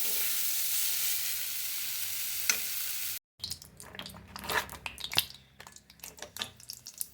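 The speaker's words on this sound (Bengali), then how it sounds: "এইখানে একটু ভেজে নিচ্ছি শাক" Leafy greens (shak) fry in a pan in a home kitchen, first as a steady, close sizzling hiss, then a short pause followed by uneven clattering and stirring over the frying.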